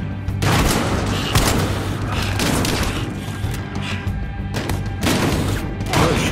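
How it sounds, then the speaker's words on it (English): Heavy gunfire in the Battlefield Hardline game: loud, dense bursts of shots and booms follow one another almost without pause. "People are getting shot."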